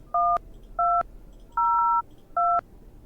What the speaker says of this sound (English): Let's use the phone. Let's call the neighbor.